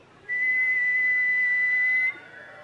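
A person whistles one long, steady, loud note close by, held for nearly two seconds and imitating the call of a brown-headed barbet.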